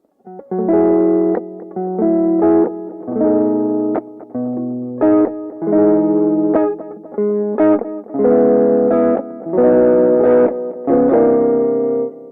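An electric guitar plays chords with a muffled, filtered, slightly distorted tone, strummed in short sustained phrases with gaps between them.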